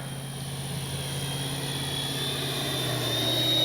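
A Freewing 64mm BAC Lightning RC jet makes a flyby, its steady ducted-fan whine with a high tonal component growing gradually louder across the pass, with no talk over it.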